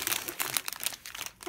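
A plastic packet from a Lego set crinkles and rustles as it is opened, with close, busy bursts of crackling and no talk.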